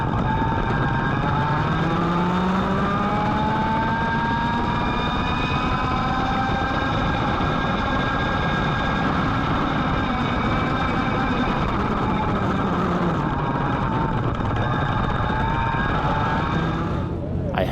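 An X30 racing kart engine screams continuously at high revs during qualifying laps at the SKUSA SuperNationals, loud and close with rising and falling pitch through the corners.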